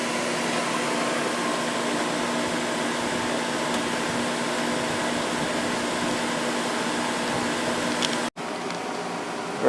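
An Idylis 12,000 BTU portable air conditioner running indoors in a basement with its exhaust hose removed, giving a steady close whooshing fan roar with a low hum, briefly cutting out near the end before resuming.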